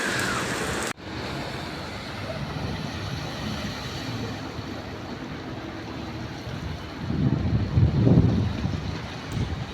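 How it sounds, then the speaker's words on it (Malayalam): Heavy rain in Dubai, a steady broad wash of falling water with gusty wind noise on the microphone, after a sharp bump at the start, growing louder toward the end. "ഇവിടെ മഴയാട്ടോ, കണ്ടോ, നല്ല മഴയാ, കണ്ടോ."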